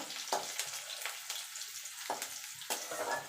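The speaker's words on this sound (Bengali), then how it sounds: "রসুনটাকে কয়েক সেকেন্ড একটুখানি নাড়াচাড়া করে নেব" Chopped garlic sizzles in hot oil in a pan while a utensil stirs it, giving a steady close frying hiss broken by several short scraping strokes, with no talking.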